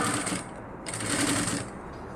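A sewing machine stitches a nighty, running in steady rapid bursts with a brief slowdown in the middle. It sounds close, with no talk.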